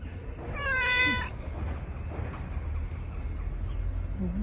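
A house cat gives a single clear meow near the start, close and fairly loud, followed by quiet room noise with faint low murmuring.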